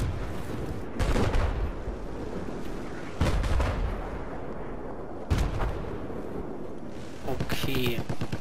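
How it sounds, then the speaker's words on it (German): Gunfire and artillery-style blasts in the video game Battlefield 4, with several loud booming shots at irregular intervals over a constant battle din, and a brief burst of rapid fire near the end. "Schießt auf mich, der Pisser."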